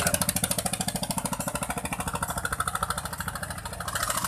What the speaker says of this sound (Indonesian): Suara kapal mau ke Talango.